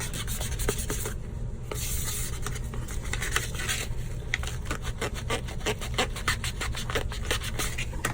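Continuous close hand sanding of a resin 3D print, a gritty back-and-forth scrubbing with quick repeated strokes throughout, no voices.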